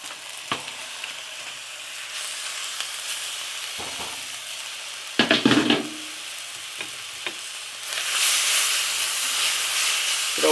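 Charred tomatoes and garlic sizzle and hiss steadily in a pot, with a few clanks of stirring and a louder burst of frying toward the end; no talking.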